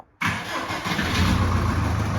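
A Subaru Outback 2.0 engine starts for the first time after repair work: a short crank after a moment of quiet, then it catches and settles into a loud, steady idle, heard close by.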